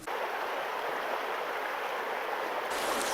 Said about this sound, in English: We've had a lot of rain recently and it is flowing really, really fast today.